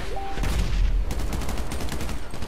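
Gunfire in the video game Grand Theft Auto V, loud continuous volleys of rapid shots with heavy low booms, dense and sustained with no pauses.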